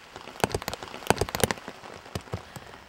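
Rain falling onto a surface, with close, sharp droplet hits in irregular bursts over a soft steady patter.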